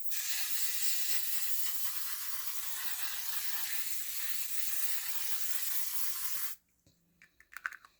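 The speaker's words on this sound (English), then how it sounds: "I'm going to just use the fixing spray from L'Oreal first" A L'Oreal aerosol fixing spray hisses in one long continuous burst for several seconds, close and steady, then cuts off abruptly, followed by a few faint clicks and handling taps.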